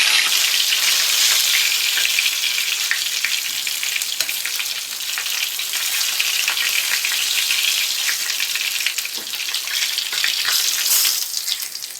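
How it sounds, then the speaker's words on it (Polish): Steady crackling sizzle of trout frying in hot oil in a pan, continuous and close, with occasional soft clinks and no voices. "I tak samo będę je smażyć na złoty kolor."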